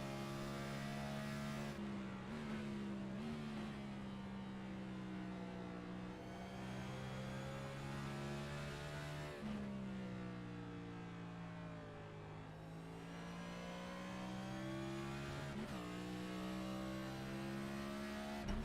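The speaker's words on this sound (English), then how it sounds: "You can hear these things going through the sequential gearboxes here for these drivers here tonight." Next Gen Cup stock cars in an online sim race at Watkins Glen drone steadily at high revs, with sequential gearbox shifts heard as repeated sharp pitch drops and climbs throughout, loud and continuous with no talk.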